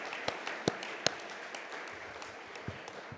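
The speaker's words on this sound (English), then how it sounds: "we should give Valeria and all the poster judges a round of applause" Scattered applause with a few distinct claps standing out, thin and fairly quiet, from a modest audience in a room at a conference session.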